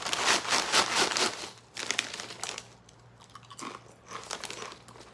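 Close, loud crunching and chewing of Kettle air fried potato chips, with bursts of crisp bites alternating with quieter munching and faint bag crinkling, no talking.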